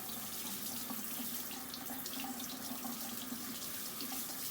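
Running tap water rinses salt off a duck leg for confit, a steady close splashing stream that fills the whole stretch at an even level with no talk.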